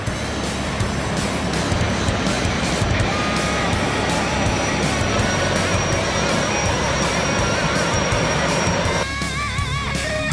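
High-speed Jetfoil ferry engines roar in a dense, continuous rush of jet-like noise with wash of water, loud and steady throughout, a brief dip near the end.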